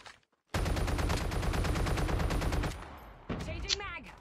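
Call of Duty Mobile battle royale gunfire: a loud, rapid automatic burst rattles continuously for about two seconds after a short silence, followed by quieter scattered shots and a sharp ricochet-like whine near the end.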